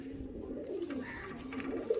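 Domestic pigeons, Andhra and Chennai Madras breeds kept at a home loft, give soft low cooing that swells and fades over about two seconds, fairly close and alone with no talk.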